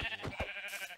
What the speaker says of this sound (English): Ooh, is that a sheep? Sheep, yeah.